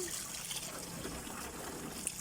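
Water gushes strongly at an outdoor water-fetching spot, a steady, close rushing flow with no voices over it.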